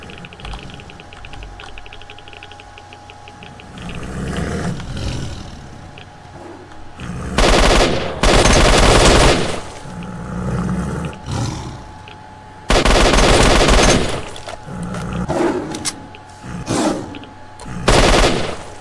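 Automatic gunfire from the 2007 shooter S.T.A.L.K.E.R.: Shadow of Chernobyl by GSC Game World comes in loud, dense bursts, with two long sustained volleys and shorter rattling ones over quieter game ambience.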